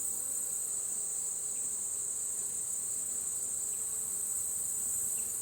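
Honeybees hum steadily around an open hive during fall re-queening, a dense, even buzz that holds level and close throughout with no voices.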